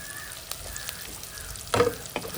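Onions, garlic and curry leaves fry in hot oil in a pan for a fish curry. A steady close sizzle carries a few stirring scrapes and one louder clatter near the end.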